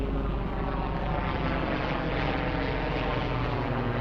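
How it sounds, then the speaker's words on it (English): A helicopter passes overhead in Orange County, heard as a steady, loud engine drone and rotor rumble that fills the whole few seconds without letting up. "Rarely see a helicopter here in Orange County."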